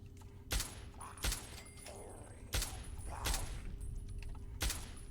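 Gunfire in Fallout: five sharp, moderately distant shots spaced roughly a second apart, each a crisp crack over quiet room tone, with no talk between them.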